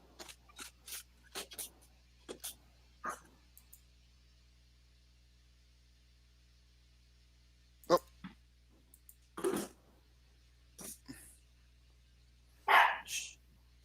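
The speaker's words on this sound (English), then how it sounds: "dog's acting up" A dog indoors barks in short, sharp, scattered bursts, some close and loud, with quiet gaps between them over a low steady hum.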